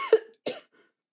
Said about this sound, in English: That cough is still coming in.